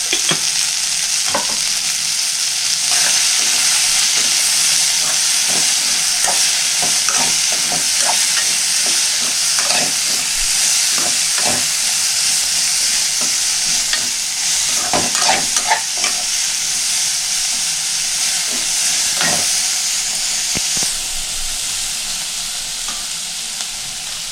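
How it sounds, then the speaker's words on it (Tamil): Onions sauté in a pan with a constant close sizzle, while a spoon repeatedly scrapes and knocks against the metal in irregular stirring bursts throughout. "வெங்காயம் வதக்க வதங்க சீக்கிரமாக வதங்கினோன்னா அதுக்கு கொஞ்சம் உப்பு சேர்க்கணும்"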